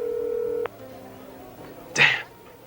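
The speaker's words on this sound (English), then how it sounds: "I dialed my own number." A phone number being punched in on a telephone keypad: a sustained tone cuts off, then a short bright burst of dialing sounds follows near the end over quiet room noise.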